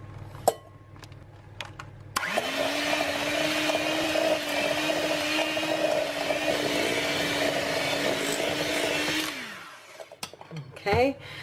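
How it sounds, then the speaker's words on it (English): An electric mixer whisking unsalted butter with sugar until creamy hums steadily for about seven seconds at a constant pitch, framed by brief clatter and a few words before and after. "We'll add in a half a cup of sugar, and we'll just whisk it until it's creamy."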